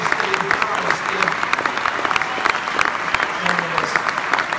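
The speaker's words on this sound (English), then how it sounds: "we should really give Steve Schaller a round of applause for the great job he's done" An audience at a national sales meeting in San Antonio claps in sustained applause, a dense crackle of many hands filling the room for several seconds with no speech over it.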